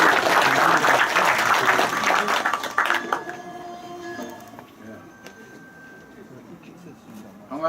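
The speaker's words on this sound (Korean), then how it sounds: "오늘 큰 박수로 환영을 해주시면 감사하겠습니다." Applause from an audience welcoming a speaker at a Confucian culture preservation society event in a large head-family house, loud dense clapping for about three seconds that thins out into scattered claps and quiet room noise.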